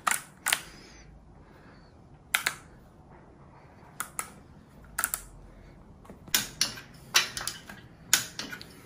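Sharp metallic clicks from a torque wrench tightening the bolts on a Type 1 flat-four VW engine, set to 27 foot-pounds. They come as scattered single snaps and small clusters over a quiet shop background.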